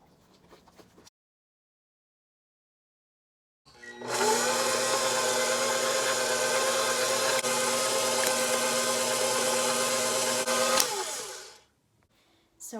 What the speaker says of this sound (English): Add your egg one at a time and then beat for like 30 seconds after each addition.